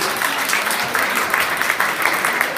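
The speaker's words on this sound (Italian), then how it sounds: "Un grande applauso." Loud, dense applause from a crowd at an Italian sports club's season-ending social dinner, steady clapping filling the whole stretch with no gaps and no talk over it.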